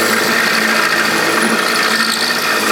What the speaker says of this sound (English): It's got a lot of stick out this mill, so we're getting a lot of I know you're way out. vibration